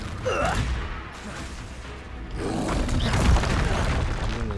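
A Confringo fire spell bursts in Hogwarts Legacy, a deep booming blast that swells and rumbles over a few seconds, loud and close with no talk over it.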